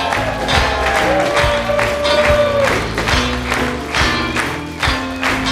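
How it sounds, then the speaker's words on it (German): A hall audience at a Baselbiet Fasnacht evening with Schnitzelbängg and cheerleaders claps loudly and steadily to thank the stage crew, with a little cheering and a sustained tone mixed in. "Großen Applaus!"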